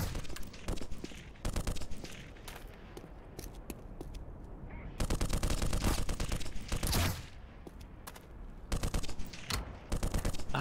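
Enemy gunfire aimed at the player in Black Mesa: repeated bursts of close, loud automatic fire with short gaps between volleys and distant scattered shots, no voices heard.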